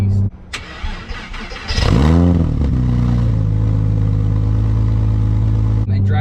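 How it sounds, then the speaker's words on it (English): A Porsche Boxster fitted with race headers cold-starts after a short crank, flares into a loud, close rev, then settles into a deep, steady high idle. A voice is heard briefly. "Cold starts on this thing are an absolute beast."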